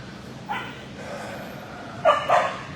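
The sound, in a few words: dogs barking in animal shelter kennels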